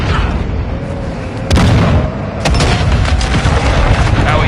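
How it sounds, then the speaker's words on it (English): Airstrike blasts thunder through a Call of Duty Modern Warfare 2 match on PS5, a dense, loud barrage of booming explosions and rumbling impacts that swells sharply midway and keeps going without letup. "Friendly airstrike on the way."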